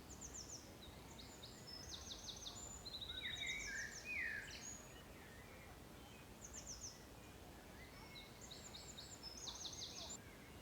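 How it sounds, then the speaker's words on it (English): Birds sing on Hampstead Heath in scattered bursts of high chirps and trills, faint and somewhat distant over a soft outdoor background hiss. "Yeah, they're really going for it. The birds are really taking over"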